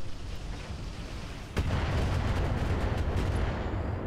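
A missile turret fires in the video game Roguepoint, a sudden booming blast that kicks in partway through and leaves a dense, rumbling roar that carries on to the end.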